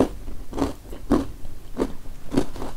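A crunchy chocolate-hazelnut biscuit is bitten and chewed up close, giving five distinct crisp crunches spaced about half a second apart over soft mouth noise.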